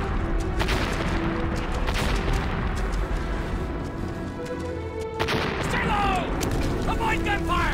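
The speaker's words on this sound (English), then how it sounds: "Avoid gunfire!" Heavy gunfire and booming artillery explosions fill a battlefield in a steady, dense roar, with shouting voices heard within the din.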